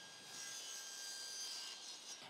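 A hand saw cuts through thin 4mm plywood sheet in a steady, raspy stroke, close and fairly quiet, with no voices.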